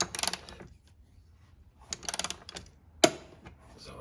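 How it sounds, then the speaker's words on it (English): Ratcheting clicks of a torque wrench tightening Porsche 993 engine mount bolts to a low setting, heard in a few short close bursts with quiet pauses between and a sharp final click. "we'll just torque them all down."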